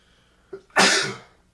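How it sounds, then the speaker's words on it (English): A single loud, breathy sneeze bursts out nearby after a brief inhaled catch, then fades quickly into quiet. "Oh, I was going to sneeze."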